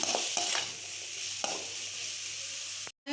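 Chopped onions with cumin sizzle in a pan for egg masala gravy, with a soft steady fry and a few spoon scrapes before a brief cutout at the very end.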